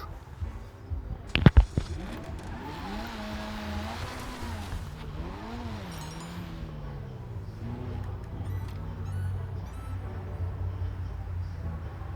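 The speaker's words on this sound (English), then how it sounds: "Go ahead, hop in the car," A car in the video game Speedo update 1.66 rolls into a parking garage, its engine humming and shifting pitch steadily after a couple of sharp clicks near the start, with a faint voice speaking under it.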